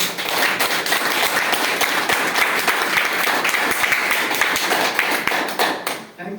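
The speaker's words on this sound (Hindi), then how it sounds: "तो तालियां ऐसे करो, ऐसे जोरदार।" A seated audience at an education plan presentation breaks into loud, sustained applause, dense clapping holding steady for about six seconds before tapering off, with a voice briefly audible at the end.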